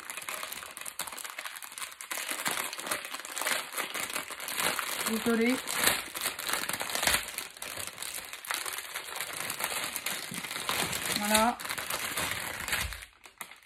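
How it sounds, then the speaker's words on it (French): Paper crinkles and crumples in close, crackling bursts for several seconds, with someone speaking briefly over the rustling. "attention, ça fait du bruit, c'est du papier."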